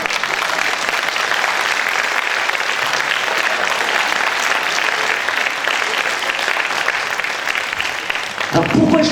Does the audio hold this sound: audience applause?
yes